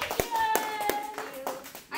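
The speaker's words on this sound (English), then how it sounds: "give a applause to the first." Brief classroom applause for a student group: a handful of uneven, separate hand claps from a small group, close by, with some faint voices underneath.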